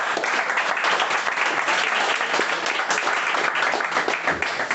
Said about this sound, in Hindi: एक बार और तालियां बजाएं।